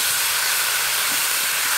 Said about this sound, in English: Let it fry until it's cooked.